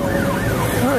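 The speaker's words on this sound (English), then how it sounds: "Well, here's some sirens." Wailing emergency vehicle sirens, several overlapping tones sweeping up and down, loud and close over engine rumble while driving through night traffic in Iguala, Mexico.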